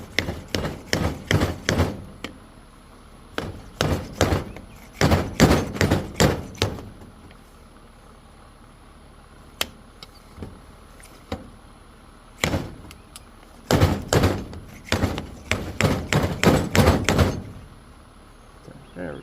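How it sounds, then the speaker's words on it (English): Slide hammer striking against a 2003 Harley-Davidson Road King front fork during a rebuild, sharp metallic knocks in quick bursts of several blows separated by short pauses, loud and close. "Take our little slide hammer again."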